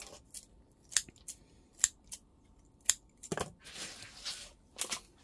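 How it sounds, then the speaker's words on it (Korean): Scissors snip through the roots of a variegated primrose being divided for repotting, giving a string of crisp, close cuts at an irregular pace, some single and some in quick bursts. "요거는 뿌리를 조금 좀 길게 잘라 볼게요."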